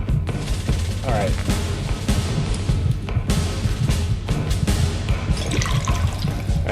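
Dirty water in the Fallout London video game, a steady wet splashing and trickling wash that runs throughout at moderate loudness, mixed with game ambience and occasional sharp effects.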